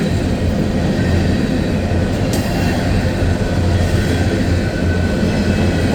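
An empty coal train with distributed power units rolls steadily along a siding, producing a loud, continuous rumble and wheel noise close by, with no voices.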